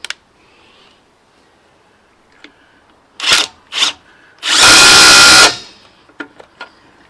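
A Ryobi impact wrench takes on stubborn nuts: two short rattling bursts come first, then a loud sustained hammering run of about a second, followed by light clicks and handling noises nearby.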